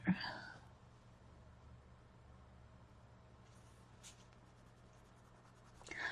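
A coloured pencil colours on paper, making a soft, continuous scratchy rasp of close, steady strokes that runs for several seconds with no talking.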